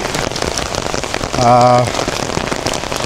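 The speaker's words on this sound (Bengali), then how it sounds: "প্রচণ্ড বৃষ্টি, মুষলধারে বৃষ্টি হচ্ছে বলা যায়।" Heavy monsoon downpour heard while walking outdoors, a loud, dense, continuous patter of rain on surfaces throughout, briefly overlaid by a short tonal hum in the middle.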